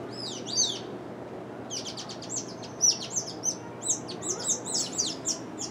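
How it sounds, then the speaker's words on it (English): Mouse birds in a zoo aviary give high, thin chirps and tweets in short clustered bursts, with a brief call near the start and a busier run of repeated notes later, close and fairly clear over low background hum. "And here are the mouse birds."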